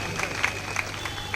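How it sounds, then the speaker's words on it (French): A crowd at a church convention in a large hall applauds, a dense steady wash of clapping with scattered louder claps and a faint constant hum underneath. "Acclamons très fort pour lui."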